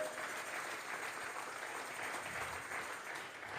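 A church congregation applauds during a Sunday service. The clapping is continuous and evenly dense, sounds somewhat distant and soft, and lasts the whole stretch.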